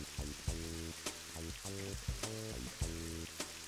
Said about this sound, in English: Let's go back in the rain.